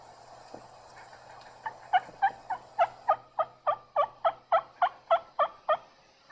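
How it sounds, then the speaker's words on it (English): A wild turkey in South Carolina gobbles in a rapid series of about a dozen rattling calls, moderately distant, against quiet outdoor background. "He was just showing off, gobbling"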